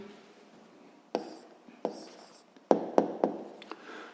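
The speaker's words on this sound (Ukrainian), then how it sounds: "записуємо відповідь" A pen writes an answer by hand in a sixth-grade maths lesson, with quick scratchy strokes and several distinct taps in an uneven rhythm, close and quiet.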